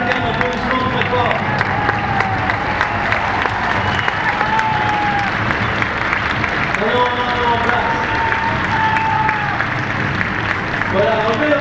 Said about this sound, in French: je pense que vous avez bien mérité un applaudissement très fort